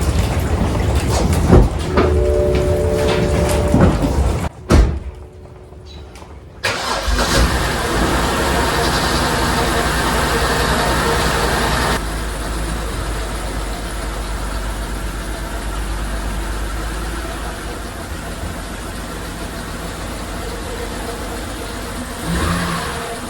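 A wrecked BMW bought at a salvage auction cranks, catches and settles into a loud, steady idle heard up close, with brief mechanical clatter before it fires and voices faintly over it.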